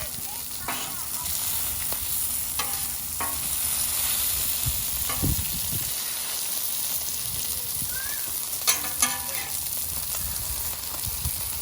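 Thin sausage patties sizzling in a frying pan, a steady hiss broken by a few sharp clicks and scrapes of a utensil, with a voice talking over the cooking.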